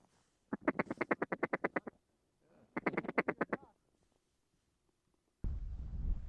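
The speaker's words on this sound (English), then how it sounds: "Too many ducks." Ducks quacking loudly in two rapid series of calls, followed by a burst of rushing noise, on a waterfowl hunt for pintail, mallards and widgeon.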